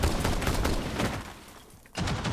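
In a video game, a burst of rapid gunfire crackles loudly, fades briefly, then resumes with another sharp volley.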